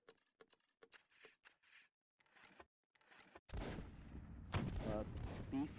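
Gunfire rattles through a video game battle as bursts of sharp shots, first spaced and fairly faint, then a denser, louder stretch of battle noise takes over toward the end; no voices are clear.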